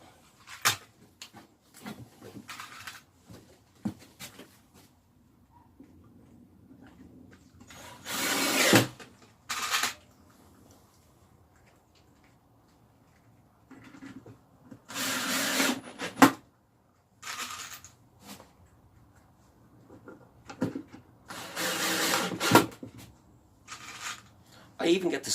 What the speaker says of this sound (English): So what I'll do now is I'll drill that